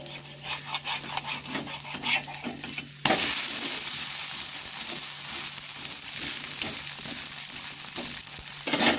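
Neem flower pitha, an Odisha rice cake, sizzles and rasps in a pan as it is turned over, a steady broadband frying hiss with scraping touches and a louder burst partway through.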